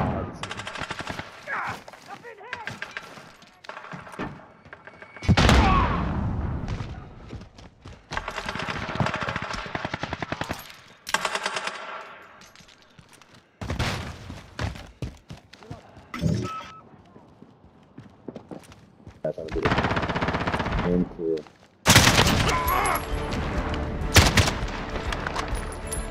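Gunfire in Call of Duty: Modern Warfare, bursts of shotgun and automatic shots in clustered volleys with quiet gaps between them, mixed with game effects and some talk from players.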